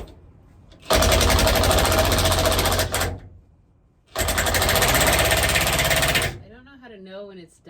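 A pneumatic rivet nut tool setting a rivet nut while building a Baja camper: two long, loud, steady rattling bursts of about two seconds each, with a brief pause between them and a voice speaking after the second.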